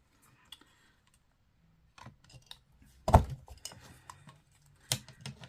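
Scissors cutting scraps of paper, a few quiet close snips and rustles spaced out after a near-silent start, with faint handling noise between cuts.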